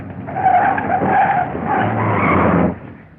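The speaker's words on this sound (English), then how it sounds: "Stop the car, quick!" A car from a 1941 film skids to a sudden stop, its tires screeching loudly for about two and a half seconds before the sound cuts off, with no talking.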